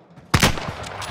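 Gunfire in a video game battle: a sudden loud burst of shots erupts after a quiet moment, followed by a sustained rattle of firing and noisy combat din.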